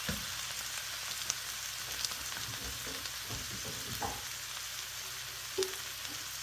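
Mashed garlic cloves going into a pan of cooking onions, a steady soft sizzle and frying hiss with a few faint stirring clicks and scrapes, close and quiet.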